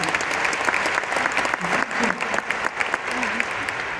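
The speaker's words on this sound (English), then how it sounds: "a nice round of applause for you" Dense, steady applause from a large arena audience at a Q&A event fills the whole stretch, with speech audible over it.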